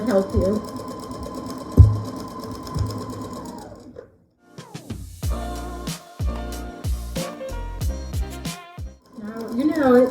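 A sewing machine stitches a quilt block in close, loud rhythmic bursts of rapid needle clatter, with a voice talking in the first half before the machine runs in several short runs.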